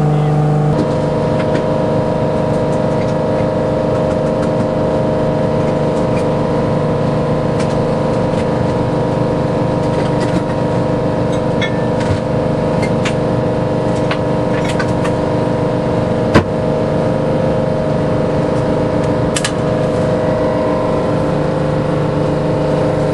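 A boat's motor drones steadily throughout, a constant engine hum with broad noise, fairly loud and unchanging, with no talking.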